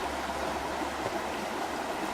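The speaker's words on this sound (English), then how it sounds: "this just springs right from this hillside over here" Spring water flows steadily from a hillside in rural Lubelskie, Poland, a continuous close rushing and gurgling wash with no talk over it.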